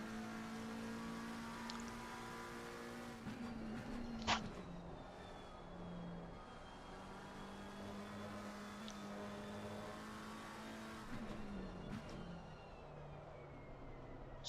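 A video game race car engine drones steadily with a whining, humming tone, fairly quiet and continuous, rising and falling slightly in pitch, at Brands Hatch.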